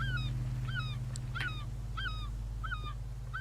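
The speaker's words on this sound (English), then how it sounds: "We got a seagull." Yellow-legged gull calling in an indie horror video game: five evenly spaced, loud, clear two-part cries over a steady low droning hum, with a couple of sharp clicks between them.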